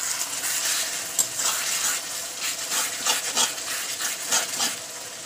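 Chopped coriander and whole green chillies are stirred in a frying pan, giving a soft continuous sizzle with repeated spatula scrapes and light crackling, close and steady with no voices.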